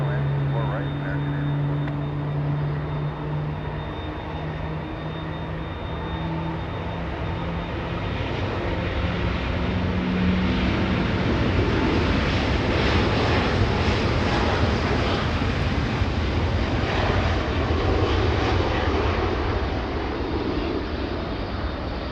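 American Airbus 319 landing on runway 24 right at Los Angeles International Airport, a broad jet roar that builds steadily and holds loud across the whole stretch, with faint voices underneath.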